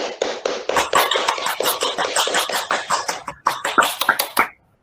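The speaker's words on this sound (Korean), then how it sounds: "박수로 통과시키겠습니다" A small group in a school rules meeting claps together to approve a decision, a brisk run of close hand claps with a short gap before a final burst that stops abruptly.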